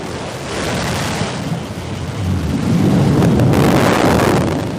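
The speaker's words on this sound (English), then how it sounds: "There's the relight of that BE-3 engine." New Shepard booster's BE-3 rocket engine relighting during descent, a broad roaring rumble that swells and grows louder toward the end, steady and distant-sounding like a thunderous wash.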